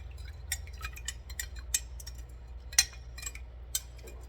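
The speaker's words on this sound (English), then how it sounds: "Just give it a little bit of a stir." A spoon stirs a tablespoon of citric acid into water for yarn dyeing, giving light, irregular clinks and taps against the container over a low steady hum, with no talking.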